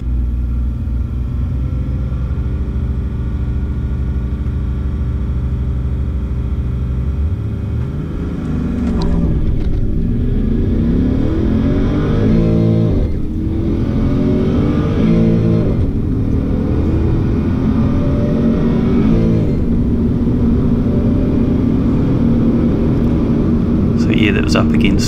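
Clubsport car launching at a drag race, a loud engine rumble that surges into rising revs and gear changes, close and sustained, with talking over it.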